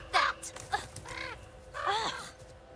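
A crow in the video game The Quarry caws harshly three or four times in an uneven sequence, close and moderately loud against a quiet ambient backdrop.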